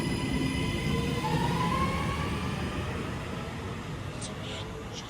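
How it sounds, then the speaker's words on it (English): A Northern passenger train pulls out toward Manchester Piccadilly, a steady rumbling roar with a long rising tonal whine as it gathers speed, heard close and continuous; a short squeal or horn-like tone sounds near the end. "departing now is the Northern service to Manchester Piccadilly"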